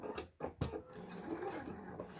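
A sewing machine runs in short, quiet bursts as it stitches fabric for a wristlet, with brief pauses between stitching runs and no talk.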